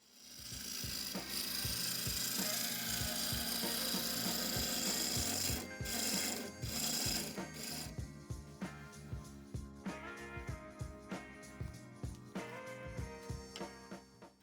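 Steady wooden scraping and rasping from a turning tool against spinning wood on a lathe, shaping a rotary sander part, continuous and close, later breaking into shorter repeated strokes.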